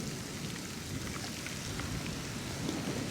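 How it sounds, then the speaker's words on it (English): Heavy rain pours steadily during a thunderstorm while truck camping in woods, a dense continuous hiss of drops on surfaces, even in level with no clear thunder clap standing out. "Rain is picking up."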